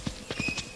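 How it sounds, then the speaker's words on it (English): Quick clip-clop of horse hooves in a horse riding video game, about four or five soft thuds in a rapid trotting rhythm, clear and fairly near. "why we're hearing the sound of horses"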